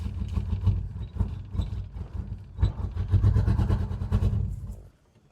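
Engine of an old Pontiac G-body station wagon, abandoned for years and probably running on a couple of dead cylinders, revs roughly in reverse, loud and close with uneven surges, then cuts out near the end.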